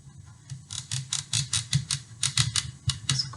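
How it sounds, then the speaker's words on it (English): A big knife working into a hard butternut squash, a run of about fifteen short, sharp crunching cuts in a quick uneven rhythm, close up and alone. "Quite hard to cut into using my big knife."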